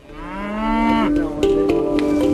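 Cattle kept by Maasai herders on the East African savanna: one long, loud, close moo that rises and then settles into a sustained low drone, with no voices present.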